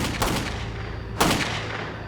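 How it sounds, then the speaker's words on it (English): Two sharp gunshots, a second apart, loud and booming with echoing tails over a low background rumble. "a quiet night echoes with gunshots"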